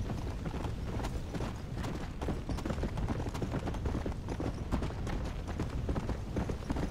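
Horse hooves in the Red Dead Redemption: Undead Nightmare video game beat a steady, rapid galloping clip-clop at a moderate, fairly constant level throughout.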